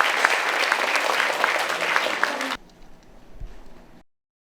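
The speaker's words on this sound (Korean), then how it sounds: "다시 한번 큰 박수 부탁드립니다." An audience breaks into dense, loud applause for about two and a half seconds, then it stops abruptly, leaving quiet room noise.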